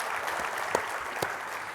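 An indoor audience at a Houston Metro civic gathering claps steadily for a speaker, a dense even patter of many hands heard on its own.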